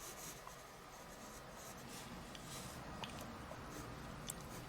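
A pencil sketches foliage on paper in quick scratchy strokes with light taps, close and fairly faint over a steady background hiss.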